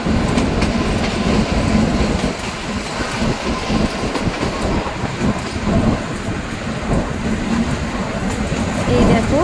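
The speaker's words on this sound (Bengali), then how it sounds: "এই দেখো ট্রেন ছেড়ে দিয়েছে" Kalka–Shimla toy train pulling away, its wagons rumbling with a steady clickety-clack of wheels over rail joints, loud and close throughout, with a faint voice under the noise.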